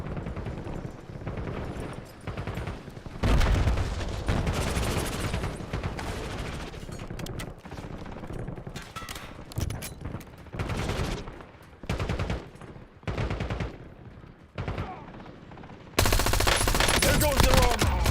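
Heavy automatic gunfire fills a military shooter game, long loud bursts and rattling volleys broken by brief lulls, ending in a sustained roar, with some voices faintly mixed in.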